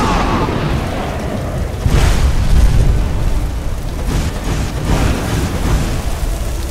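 Fire breath from a dragon in Skyrim roars in heavy, loud bursts, swelling and fading in rumbling waves over several seconds with deep booming low end.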